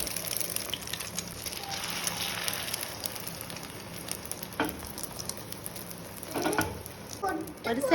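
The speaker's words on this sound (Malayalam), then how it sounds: "ഓയിൽ ചൂടായി വരുമ്പോൾ അതിലേക്ക് മുട്ട ഒഴിച്ചു കൊടുക്കുക." Egg poured into hot oil in a pan crackles and sizzles with a steady patter-like hiss, a few scraping knocks of a utensil later, no one speaking.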